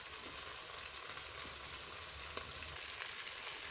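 Garlic ginger paste with green chillies frying in a pot for mutton pulao, a faint steady hiss with a slight rise near the end and no talking.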